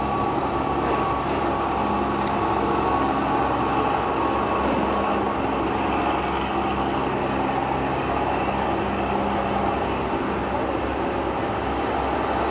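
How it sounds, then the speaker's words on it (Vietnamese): A barge on a river in Trà Vinh, Vietnam, passes with a steady, loud engine drone and low rumble that holds evenly throughout, with no talking. "Chiếc xà lan này khá đẹp nha."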